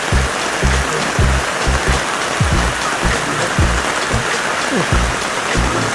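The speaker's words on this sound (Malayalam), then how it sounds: "എന്തൊരു മഴ," Heavy rain pours down in a steady, dense hiss of drops on surfaces, close and loud throughout, with faint thumps of drops landing nearby.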